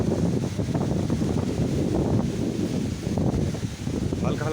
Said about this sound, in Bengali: হাওয়া চলছে কিরকম,